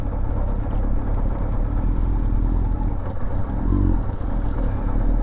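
A Yamaha R1 motorcycle engine idling and rumbling steadily up close while the clutch is feathered, a continuous low drone with a slight rise in the middle.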